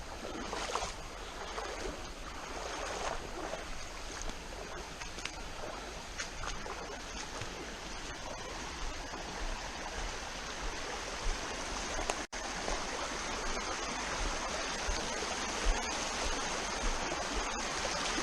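Steady rushing of a flowing stream at Prettyboy Reservoir, heard from a kayak close to the water, a continuous broadband wash with a brief knock partway through and no talking.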